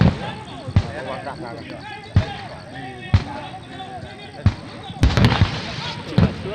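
Gunshots fired during a training exercise, sounding as sharp, spaced cracks roughly every second, with a quick cluster of rapid shots near the end, all heard under continuous talking and background voices.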